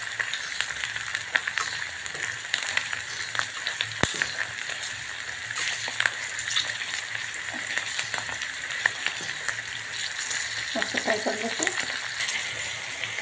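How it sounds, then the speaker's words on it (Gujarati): Capsicum, cabbage and green peas frying in hot oil in a pan, a steady close crackling sizzle with scattered pops and stirring scrapes throughout, no voices. "એને ફ્રાય કરવાનું છે."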